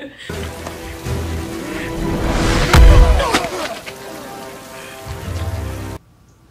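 Heavy rain pours through a movie fight scene of mud wrestling, a loud steady hiss mixed with thuds and swells of soundtrack that cut off abruptly near the end.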